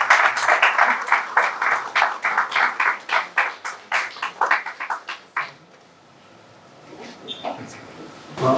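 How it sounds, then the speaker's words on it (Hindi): Audience applause at a book launch ceremony, a steady stretch of dense clapping that fades out after about five seconds, leaving a quiet room with faint scattered sounds. "बहुत सारी तालियां होनी चाहिए।"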